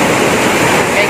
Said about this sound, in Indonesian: Ini alhamdulillah ombak tadi udah mengecil, kita bisa masuk ke gua ini.